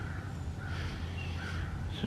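A bird flushed at the water's edge of a spring-fed creek in a wildlife refuge gives a few crow-like caws, fairly faint and spaced apart over a steady low background hum.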